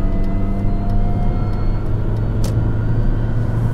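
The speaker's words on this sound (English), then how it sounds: "The thing about the supercharged Mini is it has instantaneous torque, as I'm going to now demonstrate." A supercharged R53 Mini Cooper pulls hard under acceleration, giving a steady, loud engine drone with low rumble from inside the car, continuous for several seconds without speech.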